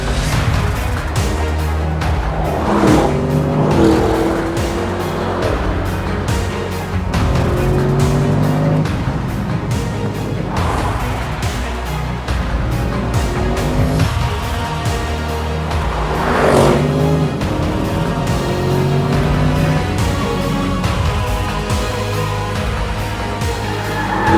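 A 2024 Audi RS6 Avant Performance engine revs and roars continuously, rising and falling in pitch as it accelerates and shifts, loud and close throughout.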